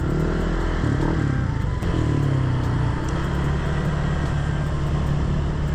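A group of eight motorcycles ridden together on a road trip gives a steady, droning engine hum with shifting pitch, close by and continuous, with passing traffic-like rumble underneath.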